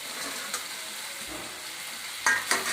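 Soya chunk manchurian is fried in a pan with cornflour slurry over high heat, a soft steady sizzle with a couple of spoon scrapes and a louder stirring clatter near the end.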